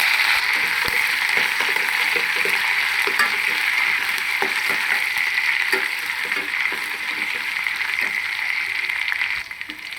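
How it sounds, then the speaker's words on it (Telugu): Tempering spices fry in hot oil in a pan for a yogurt chutney, giving a loud, continuous sizzle close by with scattered crackles and stirring scrapes, steady throughout without speech. "తాలింపు ఇలా వేయించుకోవాలండి"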